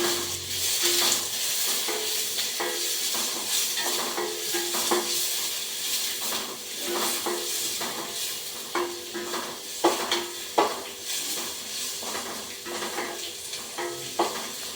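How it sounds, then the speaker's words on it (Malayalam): Onions sauté in hot oil in a pan for a vegetable kuruma, giving a steady sizzling hiss broken by scattered scrapes and clinks of stirring, close and moderately loud with no talking. "എണ്ണ ചൂടായതിന് ശേഷം നമുക്ക് ആ പാനിലേക്ക് സവാള ഇട്ട് കൊടുക്കാം"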